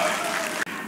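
An audience applauding at a community education center event, welcoming a samul nori percussion troupe, a dense, steady wash of clapping that breaks off abruptly for an instant near the end.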